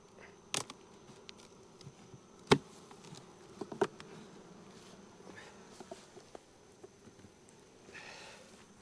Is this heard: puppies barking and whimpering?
no